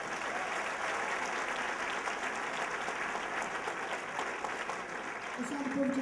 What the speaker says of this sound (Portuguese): Mateus com as palmas bem forte para Jesus